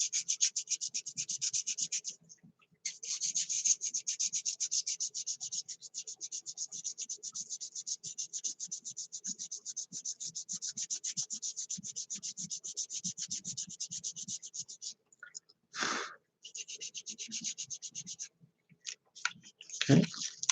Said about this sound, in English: I'm doing it forward and backwards because I've got sandpaper either side